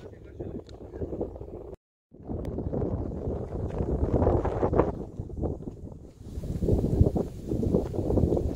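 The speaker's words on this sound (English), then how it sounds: "Look at the wind shaking the flowers and the grass." Wind buffets a hillside of California poppies and grass on a hiking trail, a steady rushing roar with low microphone rumble and gusts, interrupted by a brief dropout.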